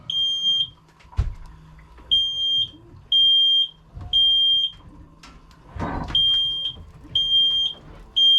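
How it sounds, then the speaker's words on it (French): A smoke alarm aboard a sailboat crossing the Atlantic sounds in repeated loud, high-pitched beeps in bursts, with brief handling clatter and a short voice between them. "détecteur de fumée, c'est ça qui se passe."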